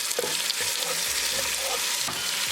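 Tomatoes sizzling in a pan of browned onion tadka, frying loudly and steadily while being stirred, with scraping and clinks of the spoon throughout.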